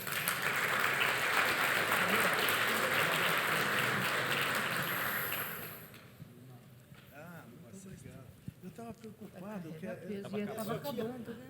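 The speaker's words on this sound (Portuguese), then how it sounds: "Salva de palmas." Audience applause at a certificate presentation, a dense round of clapping that holds steady for about six seconds and then dies away, followed by someone talking in the quieter room.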